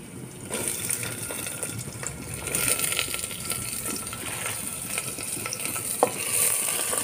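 Onions sizzle and fry in a pan while being stirred, a loud, steady crackling hiss with scraping and clinking of the utensil, close and continuous throughout.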